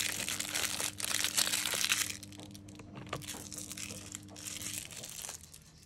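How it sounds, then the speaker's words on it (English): Plastic nail mail packaging crinkles and crackles up close in steady handled bursts, fairly quiet and alone with no voices. "I'll just let you listen to the crinkles"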